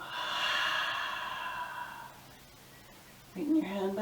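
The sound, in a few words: long breath out with a ha during yoga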